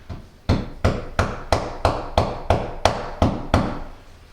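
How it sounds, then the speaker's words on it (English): A hammer taps wall anchors into a bathroom wall for installing glass tub doors, giving ten quick, evenly spaced knocks in a steady rhythm. The knocks are close and crisp, with short decays and no talk. "you can use a hammer to tap in"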